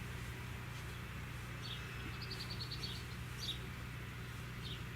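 Birds singing outside an off-grid tiny house: faint, distant chirps and short trills scattered over a steady low outdoor hum, with no voices.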